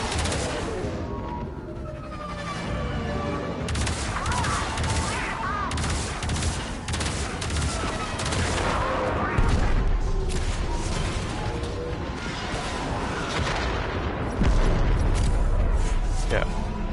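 Heavy artillery and gunfire from a forward battery in a Warframe Railjack space battle, dense overlapping booms and rattling shots running continuously, loud and close, with a voice talking over the combat.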